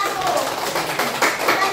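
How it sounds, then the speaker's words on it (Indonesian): A classroom of students in an Islamic religious education lesson claps briefly for a group of classmates, the quick, uneven clapping mixed with chatter and voices. "tepuk tangan dulu untuk kelompok"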